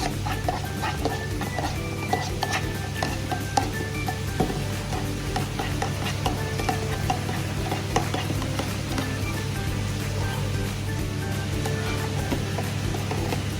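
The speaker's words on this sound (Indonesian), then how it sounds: "Nah ini biar dianyut dulu, diaduk sampai merata, sampai butirannya itu nggak ada, jadi kayak air putih gitu" A spoon stirs amoxicillin powder into water in a glass, with repeated light clinks and scraping ticks against the glass over a steady low hum, continuing evenly for many seconds.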